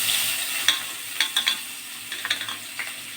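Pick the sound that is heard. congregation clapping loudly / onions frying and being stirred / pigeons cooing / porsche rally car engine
onions frying and being stirred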